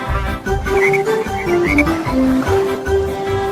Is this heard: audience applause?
no